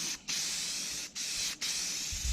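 Aerosol spray paint hisses from a can onto a DIY farm sign in three steady bursts, the bright hiss cutting off briefly between each press, close and loud.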